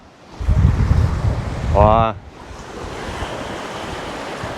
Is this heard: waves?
yes